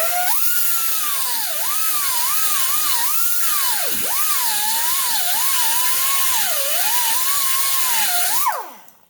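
A Harbor Freight Chief Industrial pneumatic mini die grinder running under load against a wheel, giving a loud, close, high whine whose pitch dips and recovers as pressure changes, then winds down at the end.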